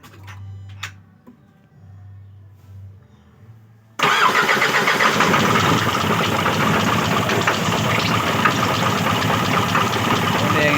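After a few seconds of near quiet with faint sounds, a misfiring Isuzu 4HL1 diesel engine cranks and catches, settling into a loud, rough, uneven running idle.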